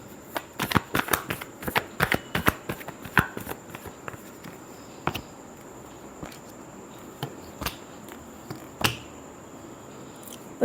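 A deck of tarot cards is shuffled and handled, giving quiet, irregular crisp taps and snaps over soft background noise. The sounds are denser at first and more scattered later, with no talk.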